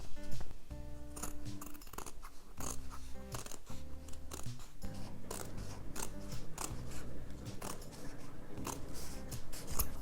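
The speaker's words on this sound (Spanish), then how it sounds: "vamos a coger y ahora sí, vamos a recortar el exceso" Scissors trim excess fabric from an English paper piecing patchwork scissor case, making a run of crisp, close snips in quick rhythmic bursts with short pauses between them.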